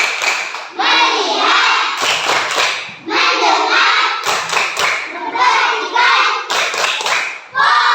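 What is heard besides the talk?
rhythmic 'focus clap' hand clapping in a classroom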